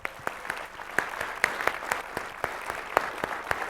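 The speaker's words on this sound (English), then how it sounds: "let's give her a round of applause" An audience at a welcome and opening speech breaks into a steady round of applause, dense overlapping claps continuing evenly throughout at moderate loudness with no voices.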